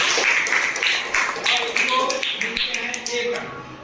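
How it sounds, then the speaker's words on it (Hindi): A short, lively burst of audience clapping greets a correct answer at a quiz on National Voters' Day, close and continuous for a few seconds before tapering off. "इनके लिए जोरदार ताली।"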